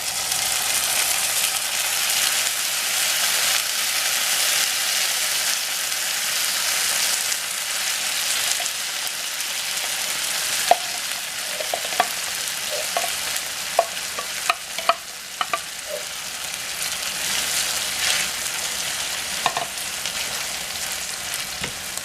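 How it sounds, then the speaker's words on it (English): Baked beans stirred into a simmering hot dog stew in a pot, a steady soft bubbling hiss with a run of sharp spoon scrapes and clicks against the pot, no one speaking. "And now I'm stirring in the beans good"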